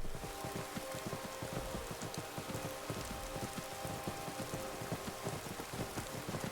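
Steady video game rain from Skyrim patters on a surface, dense and continuous, with close droplet taps throughout and no voices.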